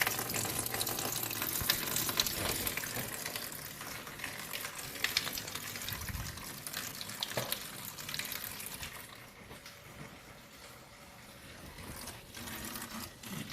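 Windshield washer fluid drains from a removed washer pump, a faint continuous trickle and splash with some gurgling, steady throughout and close by.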